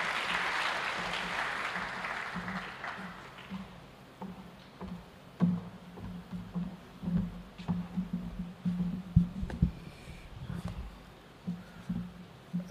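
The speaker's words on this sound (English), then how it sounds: "Let's give him a round of applause." A burst of crowd applause at the Thabo Mbeki Africa Day Lecture, loud and dense for the first few seconds, then fading into scattered low thumps and murmuring.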